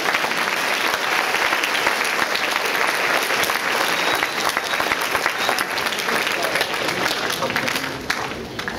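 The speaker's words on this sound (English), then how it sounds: "Let's give our sophomores a round of applause." Sustained audience applause fills a school awards assembly, loud and steady for nearly nine seconds as a crowd claps for sophomore honor students, with faint cheering mixed in.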